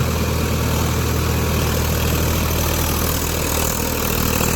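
A Swaraj 855 4WD tractor ploughing soft field soil in second gear gives a steady, loud, unbroken diesel drone, close by, with no pauses or talk.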